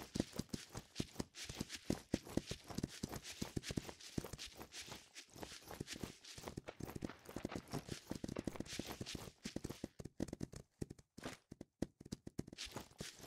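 Horse hooves in the video game Myth of Empires, a busy run of clopping footfalls with an uneven rhythm, loud and close, briefly pausing before picking up again.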